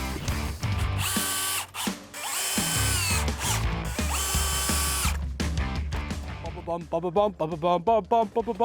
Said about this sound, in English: clamp it down here, clamp it down there, and screw it to the log